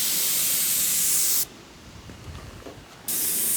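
A spray gun painting a Camaro front end in a garage, a loud steady hiss that cuts off for about a second and a half, leaving quieter room noise, then starts again.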